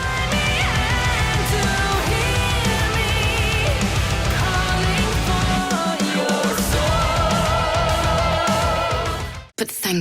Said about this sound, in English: she's gonna be playing a song and it's gonna sound like this